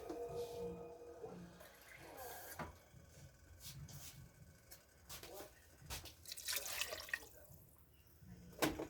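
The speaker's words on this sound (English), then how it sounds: "let me get some water in here to top this off" Water pours and splashes in short bursts into a pot of Hungarian mushroom soup on a homestead stove, a small top-off amount landing with irregular drips and trickles close by.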